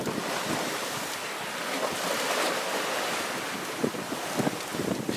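Ocean waves and gusting wind roar steadily around a sailboat under reefed mainsail on a sunny, breezy day at sea, with the loud, broadband wash of water and wind buffeting the microphone and no voices.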